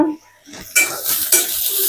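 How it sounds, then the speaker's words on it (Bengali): Onion and garlic frying in a pan for a long bean bharta, a hiss that swells in twice after a brief lull, with scraping stir and pan clatter, close and fairly loud, no talk. "আগে পেঁয়াজ আর রসুনটা একটু ভাজলাম"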